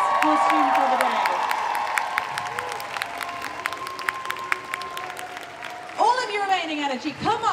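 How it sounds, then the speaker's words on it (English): Crowd applause and cheering for the best-costume cosplay winner at MCM Birmingham 2023 comic convention, a sustained loud burst of clapping with someone talking over it, then whoops rising near the end. "I want you to applaud Vanilla Pink Cosplay as Rinwell from Tales of Rise"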